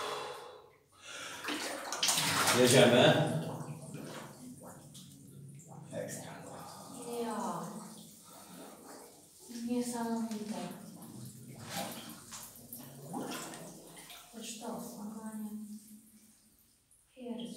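A diver enters the water of a flooded mine adit near Zagórze Śląskie with a loud splash, followed by softer sloshing and dripping while several people talk and react nearby.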